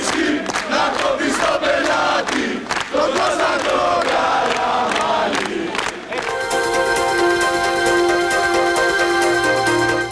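At a PASOK youth gathering in Exarcheia, a dense crowd loudly chants and cheers to welcome Petros Efthymiou, with rhythmic shouted slogans that later merge into a steady, sustained roar.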